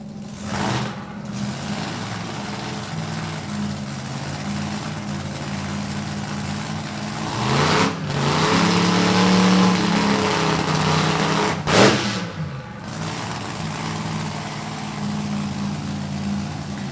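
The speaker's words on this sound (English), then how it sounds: "He'll do the longer, more higher RPM burnout." Supercharged alcohol drag racer engine at an NHRA drag strip, a steady loud drone with a rising rev surge around the middle, interrupted by short gaps and bursts, heard from a distance with no talk.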